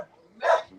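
A dog gives a single short bark or yip, fairly close, over quiet background.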